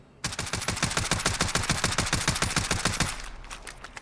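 Full-auto burst from a VKS .50 caliber rifle in Call of Duty Modern Warfare, a rapid, steady string of loud, sharp shots lasting nearly three seconds, then an abrupt stop with brief trailing echo.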